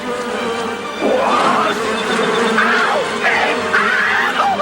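Cartoon bee swarm buzzing in a Legend of Zelda animated show, a loud close whining drone with rising and falling swoops as the swarm moves, a voice yelping over it.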